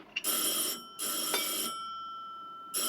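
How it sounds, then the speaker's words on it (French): A 1930s telephone bell rings in sharp bursts indoors, two long loud rings separated by a short pause, with another ring starting at the very end. "Ah, téléphone."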